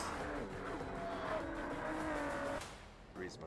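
A Toyota GR Yaris engine in a Gran Turismo 7 trailer revs hard with a rising, buzzing note and tire noise, then cuts off near the end. The sound is moderately loud and steady.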